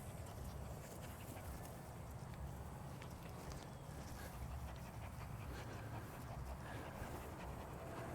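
A pit bull terrier puppy pants rapidly and rhythmically throughout, a faint, breathy sound close by over low background noise.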